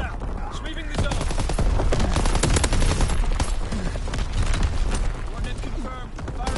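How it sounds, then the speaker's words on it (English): Division artillery barrage in Call of Duty: WWII, with dense, continuous booms and gunfire bursts piling up loudly while voices talk over the din. "Firing division artillery."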